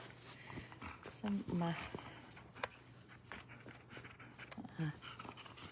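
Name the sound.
dog panting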